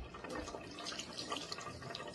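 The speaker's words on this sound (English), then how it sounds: "Let me wash my hands one more time." Hands are washed under a running kitchen tap, giving a soft continuous splashing and trickling of water. It is quiet and close, with no talking.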